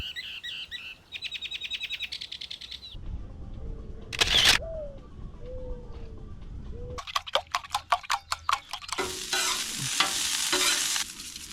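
Food sizzling and frying on a Blackstone griddle at a lakeside tent campsite, with scraping and clatter of a spatula, bird chirps earlier and a dense crackling sizzle building toward the end.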